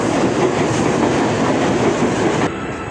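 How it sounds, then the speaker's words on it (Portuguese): A train rumbles past a station platform close by, a loud, dense roar with wheel clatter running continuously, then dropping sharply in level near the end as the cars pull away. "agora que o trem passou"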